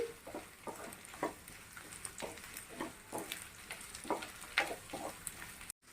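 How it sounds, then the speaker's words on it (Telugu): Okra frying in a pan over a medium flame, a faint steady sizzle broken by repeated light scraping and stirring taps, quiet and close, ending abruptly. "బెండకాయలు వేసుకున్నాక స్టవ్ని మీడియం ఫ్లేమ్లో పెట్టుకుని ఒక 2 మినిట్స్ వేయించుకుందామండి"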